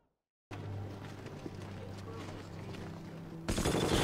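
Covering gunfire in the World War II shooter Hell Let Loose, a steady dense rattle of shots under a low battlefield rumble that swells into louder, brighter bursts near the end.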